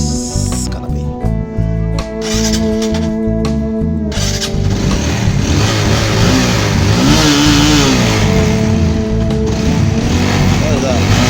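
A power bike's motorcycle engine revs steadily during a test ride, a loud continuous mid-pitched drone with shifting pitch, with a voice speaking over it.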